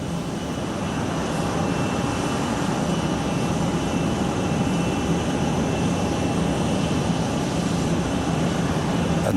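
Pope Francis's airliner departing Armenia roars steadily with a loud, unbroken jet engine drone that holds for the whole stretch, with no voices over it.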